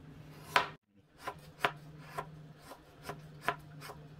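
Palm sugar (gula melaka) being chopped into small pieces for mung bean porridge, heard as a steady series of sharp, close knife chops on a board with a brief pause early on.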